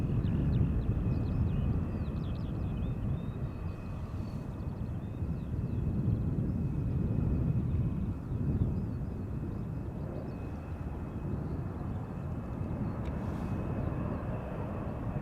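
A KLM Boeing 737 arriving at Schiphol Airport from Brussels produces a steady, broad jet rumble at a distance, continuous for the whole stretch with light wind noise and no talk.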